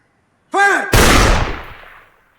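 A single gunshot rings out in an action movie, a sharp loud blast that rolls into a decaying echo, preceded by a brief sweeping sound effect.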